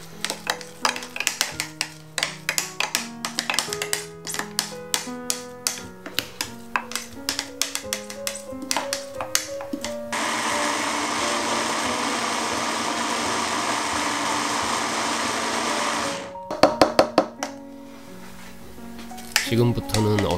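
A blender grinds peeled garlic cloves in a steady, loud whirring burst lasting several seconds, framed by knocks and clinks of kitchen containers before and after.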